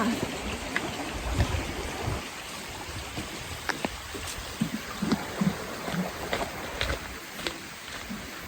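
A forest stream in Akatarawa Forest, New Zealand, flows with a constant close gurgle and trickle, scattered splashes and drips standing out above the running water.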